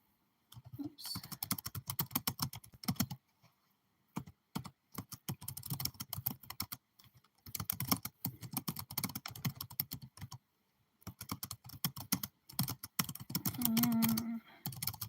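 Typing on a computer keyboard, close and fairly loud, in bursts of rapid key clicks separated by short pauses, with a brief low hum near the end.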